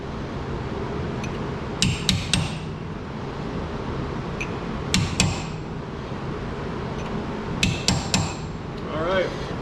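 Hammer driving a chisel against the lip of a small cap on the drum and backing plate of a 1966 Pontiac Catalina convertible, heard as three clusters of sharp metallic taps, each a quick burst of two or three strikes, close and distinct over a low workshop hum.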